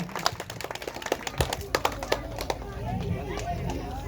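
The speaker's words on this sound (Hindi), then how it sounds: "आप लोग जोरदार ताली बजा करके" An audience claps to welcome a guest at a public school's stage inauguration, with scattered individual claps thickening into light applause under someone speaking loudly into a microphone.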